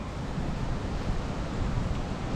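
Strong wind blows at the seashore during a typhoon, a steady broadband roar buffeting the microphone with no voices, even and unbroken throughout.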